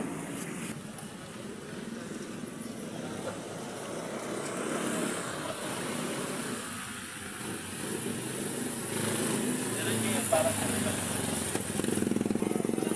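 Road traffic passing by: a steady wash of engine noise with a light motorcycle-like whine builds gradually and stays moderately loud, with faint voices in the background.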